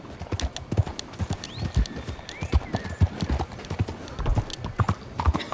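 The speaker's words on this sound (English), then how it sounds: "God, this horse is so temperamental." Horse hooves clip-clop steadily in Red Dead Redemption 2, a close, lively trotting rhythm with a faint whinny partway through and bits of game ambience behind.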